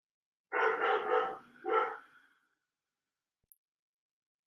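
A dog indoors gives a few close, loud barks in quick succession, a pair followed by one more after a short gap, then quiet.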